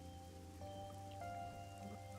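Steady rainfall in the video game AI: The Somnium Files patters softly behind sustained musical tones, with no voices.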